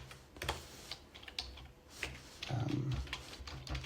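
Soft, fairly close typing on a computer keyboard comes in irregular clicks and small bursts, with a denser flurry of keystrokes near the end.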